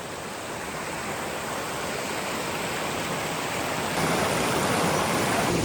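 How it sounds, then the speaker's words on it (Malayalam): A forest stream flows steadily over stones, a loud, continuous broadband rush of water with no pauses. It swells slightly louder near the end, and no voices are heard. "ഈ അരുവിൻ്റെ വെള്ളമാണ് നമ്മൾ അവിടെയും കുടിക്കുന്നത്"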